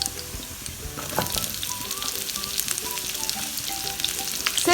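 Onion goes into hot oil with sliced garlic already frying, for Singaporean rice; a steady close sizzle with light stirring clicks and scrapes runs throughout, no voices.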